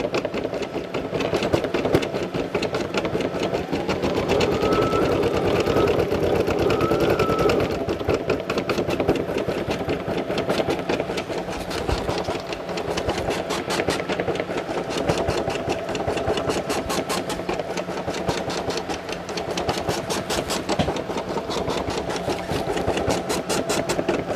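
A Brother SE1900 embroidery machine stitches a four-colour design onto a hat. It gives a steady, rapid mechanical whirr and needle clatter that runs close and continuous, with no talking.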